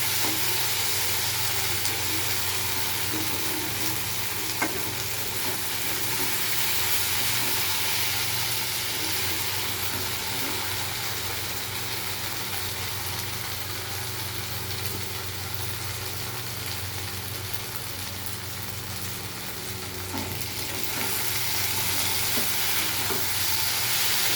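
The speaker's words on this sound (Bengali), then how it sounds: "ভালো করে কষাতে হবে" Vegetables sautéing in a pan give a continuous even sizzle and hiss, with faint stirring scrapes underneath, steady and close throughout with no one speaking.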